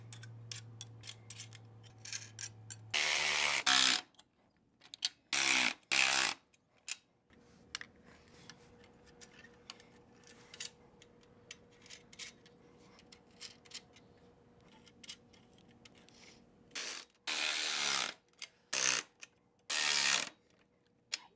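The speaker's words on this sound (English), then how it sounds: "you can go ahead and tighten the bolts" Ratchet wrench tightening bolts on a bracket of an EZ4x4 storage cart for Ford Bronco doors, heard as close bursts of rapid metallic clicking separated by pauses, with quieter mechanical ticking between them.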